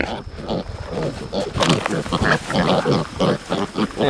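Several pigs grunt and squeal up close in a noisy, overlapping chorus, with a person's voice calling over them.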